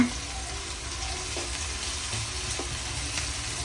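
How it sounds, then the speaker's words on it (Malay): Sliced shallots, Bombay onion and chopped chilli stir-frying in oil for oyster-sauce chicken, a steady even hiss of frying with a few faint taps, close and continuous. "letak bawang ni nak tumis letak bawang bombay sekali so tumiskan biar dia layu sikit"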